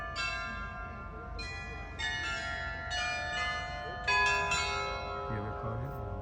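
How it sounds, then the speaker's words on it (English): Many bells of the Prague clock ring together in overlapping tuned peals, a dense chiming chorus that swells and restarts in waves, with a steady crowd murmur beneath. "The place, the bells, 25 bells playing."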